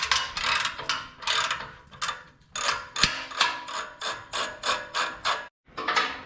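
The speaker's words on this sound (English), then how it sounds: "we are loosening the clamps on the back of the X-Pipe towards the axle back" A ratchet wrench clicks in quick repeated bursts while loosening the exhaust X-pipe clamp bolts on a C7 Z06, close and loud, with brief pauses between strokes.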